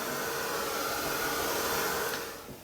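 A hair dryer dries a mixed media art journal page, blowing as a loud, steady close-up whoosh that fades slightly as it shuts off at the end.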